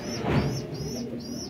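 Oman pigeons coo in soft, low, throaty phrases that swell near the start and then settle into a steady murmur, with faint high chirps above them throughout.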